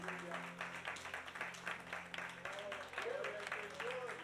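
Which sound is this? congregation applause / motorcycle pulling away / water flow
congregation applause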